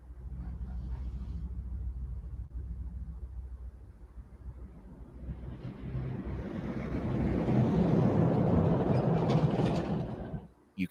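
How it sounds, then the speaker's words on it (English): London Underground trains rumble through a depot in Tube Sim: a low steady drone for several seconds, then a rising, broadening roar of a passing train that swells loud before cutting off near the end, no talk. "You can hear the trains around you"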